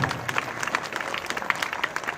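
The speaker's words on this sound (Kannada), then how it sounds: "ಬಹಳ ಅದ್ಭುತವಾದ ಗೀತೆಯನ್ನು ಹಾಡಿದ ಕಲಾವಿದರಿಗೆ ಮತ್ತೊಮ್ಮೆ ಜೋರಾದ ಚಪ್ಪಾಳೆ" An audience gives a singer steady applause after a song at a live stage event, a brief, even burst of many hands clapping.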